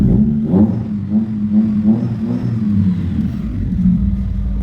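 A Nexia 2 car engine running after an electrical wiring repair, a steady low rumble close by with a few rev surges and some clatter, no talking over it.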